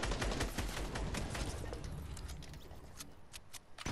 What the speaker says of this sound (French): en fait, il tire sur un requin